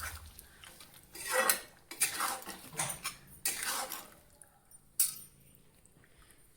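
A spoon scrapes and clinks against a pot while fish curry is stirred, giving several separate bursts of metallic scraping with quiet gaps between them.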